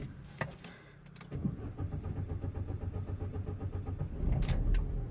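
A Vauxhall Corsa D 1.4 with a limp mode fault cranks slowly for a few seconds with a rhythmic, labouring whir before catching and settling into a low idle.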